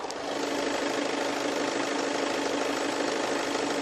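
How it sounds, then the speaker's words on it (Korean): A 2021 German SUV's engine idles steadily with the hood open, a constant even hum and rumble that holds unchanged throughout, close and alone with no voices. "바로 엔진 소리 한번 들려드릴게요."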